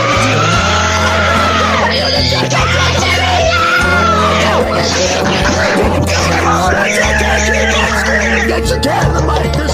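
A person screams loudly and repeatedly in drawn-out, strained yells over a heavy, distorted low rumble, close and harsh throughout.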